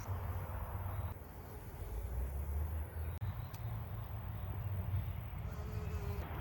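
Bees buzzing around flowering perennial basil in an Australian cottage garden in autumn, a continuous droning hum of many insects close by, steady and unbroken.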